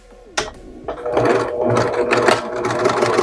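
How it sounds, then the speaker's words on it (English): A sewing machine stitches lace trim onto a bridal veil, starting with a couple of clicks and then settling into a fast, steady mechanical whirring and tapping rhythm, close and clear. "We're going to sew this trim on,"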